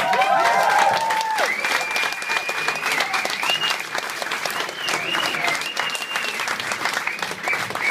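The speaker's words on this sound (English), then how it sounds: "A great round of applause for Mr. Jason fucking Waddell!" Loud, sustained applause from a close comedy club audience after a stand-up set fills the whole stretch, with a voice briefly speaking over the start.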